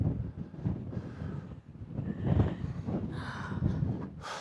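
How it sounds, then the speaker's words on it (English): Gusty wind at hilltop Inca ruins in Cusco buffets the microphone in uneven surges of low rumbling noise that swell and fade over a few seconds, with no clear speech. "I don't want this wind to blow my hat off"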